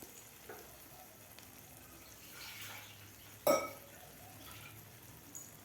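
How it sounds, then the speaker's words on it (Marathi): A spoon stirs masoor dal in a pot with faint, soft swishing, broken by one sharp metallic clank midway and a lighter tap near the end. "व्यवस्थित आपल्याला हलवून घ्यायचं आहे"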